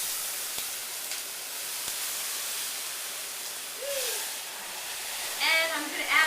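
Stir fry simmering in a frying pan, a steady soft hiss and sizzle throughout, with brief clinks and a short voice or whistle-like sound near the end.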